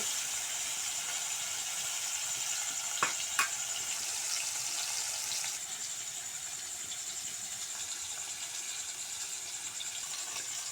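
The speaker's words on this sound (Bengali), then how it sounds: "আমি মাছগুলো ভালো করে লাল লাল করে ভেজে নিব।" Rohu fish pieces frying in oil in a pan until reddish-brown, a soft steady sizzle with a couple of sharp utensil clicks near the middle, fairly quiet and uninterrupted.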